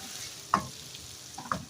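Chicken browning in a pot for chicken aloo biryani, a low steady sizzle broken by a few sharp stirring scrapes, one near the middle and two close together at the end.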